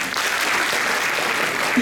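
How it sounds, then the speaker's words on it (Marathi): Audience applause fills a lecture hall in a steady dense wash of many hands clapping, even and sustained throughout without pause. "बस, टाळ्या वाजवतात."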